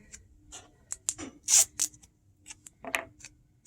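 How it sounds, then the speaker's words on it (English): Strips of tape being cut or torn in preparation for an IV insertion, a series of short, crisp snips and rips spaced irregularly, close and fairly quiet with no talk. "Cut or tear tape before distending vein."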